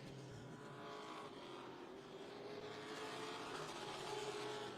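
Race cars roar around the Bowman Gray short track during a weekly series race night, several engines droning together at steady, loud volume with rising and falling pitch as the field circles the tight oval.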